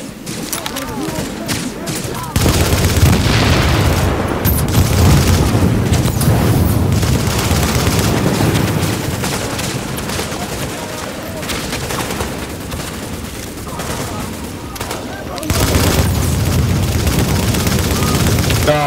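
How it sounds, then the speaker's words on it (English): Grenade blast and gunfire in The Division's Dark Zone, a loud sustained burst of explosion and shooting that swells, eases, then surges again near the end, with game voices talking over it. "I noticed the grenade a little too late."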